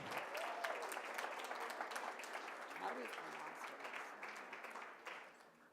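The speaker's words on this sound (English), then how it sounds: "Round of applause for James Monroe High School" A crowd at a Hispanic Heritage Month celebration applauds a high school, a continuous, even patter of many hands heard from some distance, with voices talking faintly underneath.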